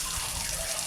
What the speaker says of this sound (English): The pump's putting out the water.